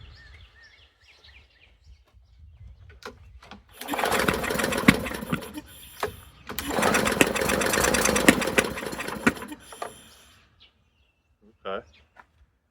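A push mower's small engine coughing to life after carb spraying, running roughly in two loud bursts with sharp popping backfires, sputtering between them and dying away near the end.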